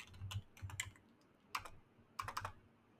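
Quick clusters of keystrokes on a computer keyboard as terminal commands are typed, close and fairly quiet, with short pauses between bursts.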